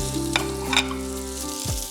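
Meatballs fry with a steady sizzle in a pan for spaghetti and meatballs, with a couple of brief scraping stirs and a clunk near the end, close and continuous.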